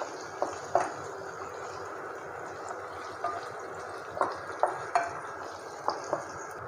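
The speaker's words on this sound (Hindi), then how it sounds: "इसको हम अच्छे से सॉटे कर लेते हैं, जिससे कि हमारा प्याज जो है वो सॉफ्ट हो जाए।" Onions being sautéed and stirred in a pan for a kathi kabab gravy: a soft, steady sizzle with intermittent scraping clicks of a spoon against the pan, close and moderately quiet, no voices.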